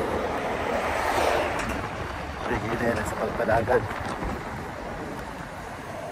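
Strong outdoor wind buffets the microphone in a steady broadband roar while someone talks over it.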